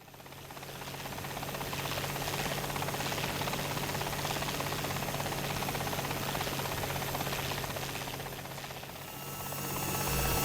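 A small BO-105 helicopter in War Thunder flies steadily, its rotor chop and turbine whine forming a constant, moderately loud drone that swells again near the end, with no voices.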